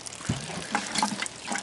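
Water from a rain barrel pours onto collard greens in an elevated container garden, a steady splashing and trickling stream that runs throughout, close and moderately loud.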